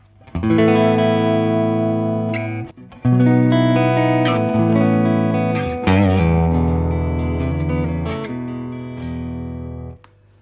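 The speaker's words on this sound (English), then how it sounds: "two amps together, it's a beautiful sound." Electric guitar through two amplifiers, one a Princeton, with no pedals: chords ring out loud and full with a warm, layered tone and some shimmer, sustained phrases separated by short gaps.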